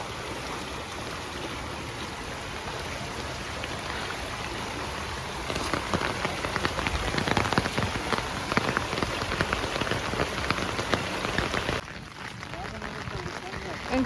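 A heavy downpour hisses steadily, then swells louder and denser partway through before easing back to a softer patter near the end.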